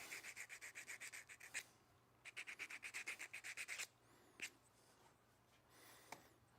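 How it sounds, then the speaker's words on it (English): A small wood-turned spinning top has its leftover nub sanded off: two quiet runs of fast, rhythmic rubbing strokes separated by a short pause, then a few scattered faint scrapes. "the last thing I do is I take and just sand that little nub off"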